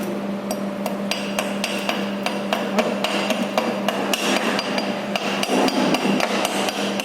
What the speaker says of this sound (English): now we'll see how this slag can be removed with the help of the chipper